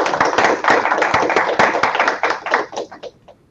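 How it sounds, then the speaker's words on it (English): A small group claps briskly for a few seconds, close by, the clapping thinning out and fading at the end. "Maybe we'll give a round of applause on this end."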